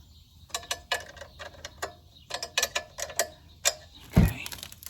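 Close, crisp ratchet clicks in short irregular bursts while engine guard bolts are snugged up on a Royal Enfield Classic 350 Octagon motorcycle, ending with a duller metallic knock.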